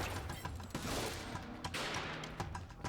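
Sniper fire from snipers on an opposite building in Ape Out, several sharp cracks rising out of a busy, rumbling game mix, quiet overall and irregularly spaced.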